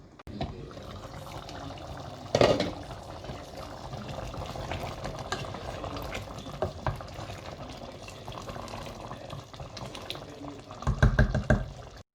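Pot of bœuf bourguignon simmering on the stove, a soft continuous bubbling and sizzling with a couple of louder stirring or clattering bursts, no talk over it.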